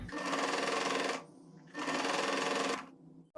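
A sewing machine stitches a V-neck blouse seam in two loud, steady bursts separated by a brief pause, close and alone.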